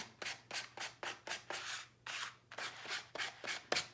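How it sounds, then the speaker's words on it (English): Sandpaper rubbed by hand around the edges of a cut SVG craft kit piece, a run of about a dozen short, close scratchy strokes in a steady back-and-forth rhythm, soft and alone without talk. "gently rub that around the edge."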